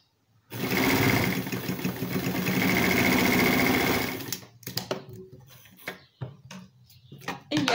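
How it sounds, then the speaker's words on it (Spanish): A sewing machine stitches the joined ends of a fabric baby headband, running loud and steady for about four seconds, then stopping and starting in short bursts. "Juntamos las dos puntas y vamos a coser."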